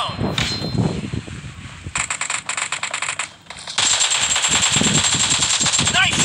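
PUBG Mobile gameplay with loud automatic gunfire in rapid bursts, then a sustained stretch of continuous fire, alongside in-game voice callouts.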